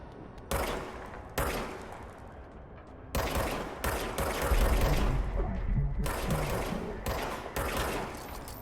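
Service Weapon gunfire in the video game Control, sharp bursts of rapid shots starting abruptly in several separate volleys with brief gaps, loud and close over a low background rumble.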